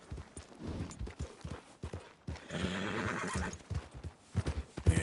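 A horse in Red Dead Redemption 2 clip-clops along on hooves, then lets out a loud whinnying neigh in the middle, close up, with hoofbeats continuing after.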